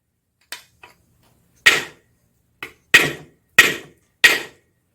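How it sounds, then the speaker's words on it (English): Sharp metallic taps as a hammer strikes a big flathead screwdriver against an engine block core plug, seven distinct blows with pauses between, the later ones louder and ringing briefly. "you just take your big flathead screwdriver and you tap it until it goes inside the block"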